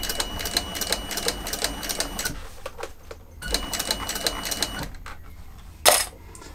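A sewing machine stitches a leather bag in rapid mechanical bursts of clattering needle strokes, pausing briefly between runs and slowing at a corner, with a sharper knock near the end.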